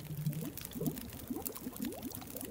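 Water boils over a fire in the video game The Long Dark, giving a soft, continuous bubbling and gurgling with small irregular pops. It is moderately quiet, with no speech over it.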